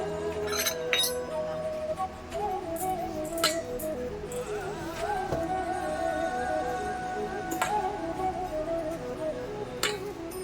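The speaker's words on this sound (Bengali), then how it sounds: "নুন দিয়ে দিলাম এবার এগুলোকে মিক্স করবো" Spices, fennel seeds and salt are mixed in a bowl with a spoon, giving repeated light clinks and scrapes against the bowl at an uneven rhythm, close and fairly quiet, over a faint background hum.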